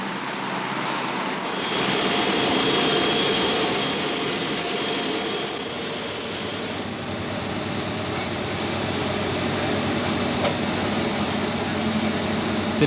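Transport aircraft engines roar in a steady, broad jet rumble that swells slightly and then holds, continuous and moderately loud, with no talk over it.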